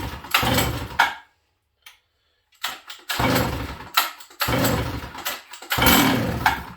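A Sachs Dolmar 153 100cc chainsaw with a suspected carburetor problem being pull-started, loud nearby engine bursts that catch and rev briefly, cut out, then fire again in repeated surges.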